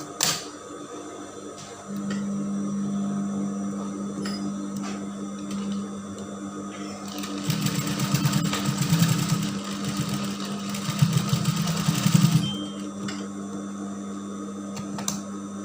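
Sewing machine stitching a sewn seam to hold the elastic on baggy gathered-waist pants, starting with a steady hum and swelling into louder, busier rapid stitching midway before easing back to a quieter run.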